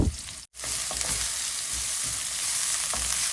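Carrots and cauliflower fry in a hot pan with a dense, steady sizzle that fills the clip, broken by a brief silent gap near the start and occasional stirring clinks.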